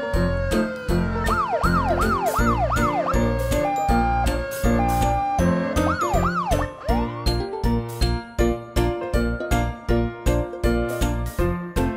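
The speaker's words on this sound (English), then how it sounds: "Police car." Toy police car siren wailing in repeated rising-and-falling sweeps over a busy electronic tune with steady jingling beats, loud and continuous, with no talking.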